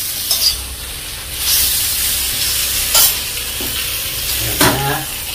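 Pork skin chicharon sizzles and crackles steadily in hot oil, Pampanga style, with bursts of louder frying and occasional stirring scrapes; no voices.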